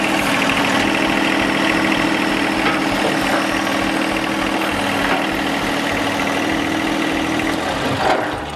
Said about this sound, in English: Now I want to demonstrate the bucket going back on.